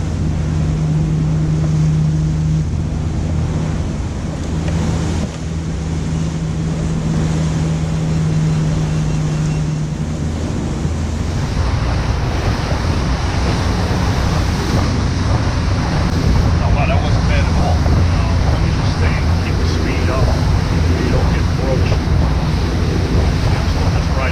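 A boat pushes through rough waves and gusting wind while entering Manasquan Inlet in New Jersey, with a loud, continuous roar of wind buffeting and water rushing. A low engine drone is steady underneath throughout.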